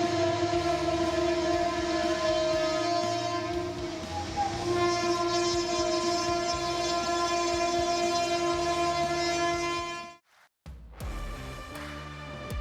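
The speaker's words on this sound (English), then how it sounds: "A train derailed and caused total chaos around it." A train passes with a long, loud, steady horn blaring over the rumble of the rail cars, then the sound cuts off abruptly into near silence before a brief, muddled return.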